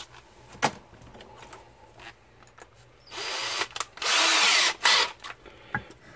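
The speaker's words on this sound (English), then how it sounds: "So you want to position your drill bit." After quiet handling noises, an electric drill whirs up in a few loud bursts, grinding as it bores holes into a guitar body, then stops.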